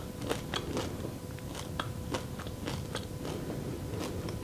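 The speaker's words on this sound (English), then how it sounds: "You can probably hear me crunching." Crunching bites into the crust of homemade spelt sourdough bread, a series of sharp, crackly chews repeating close to the ear at an irregular rhythm, with no talking.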